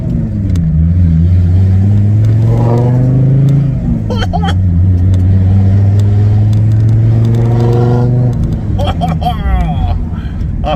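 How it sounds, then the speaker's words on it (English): VW T4 van fitted with a custom exhaust, revved repeatedly in rising and falling sweeps, the engine loud and close with a deep droning note between blips, someone talking over it. "my new exhausts, right? When I get the revs up,"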